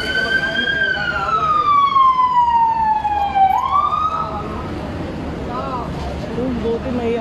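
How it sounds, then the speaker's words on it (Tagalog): Wailing ambulance siren at a mobile crane collapse on an under-construction skyway, loud and close with a falling, sweeping pitch, over steady traffic rumble and voices talking nearby. "Buti may ambulansya na."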